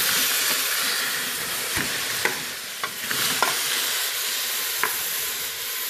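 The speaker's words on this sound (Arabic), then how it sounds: "راني نقلي البصله مع الزيت فقط" Onions frying in oil in a pan for Algerian chakhchoukha, a steady broadband sizzle with occasional sharp pops and crackles, close and continuous with no talking.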